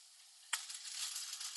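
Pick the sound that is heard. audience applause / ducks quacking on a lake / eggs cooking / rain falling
eggs cooking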